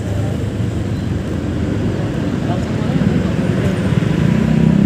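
Road traffic in heavy typhoon rain, a continuous low rumble of engines and hiss of rain that grows slightly louder over the stretch, heard from inside a vehicle.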